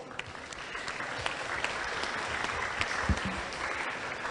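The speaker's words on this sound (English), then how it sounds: "Ladies and gentlemen, audience, please give them a round of applause." An audience at a school English debate applauds the panel, with steady, even clapping that continues from start to finish.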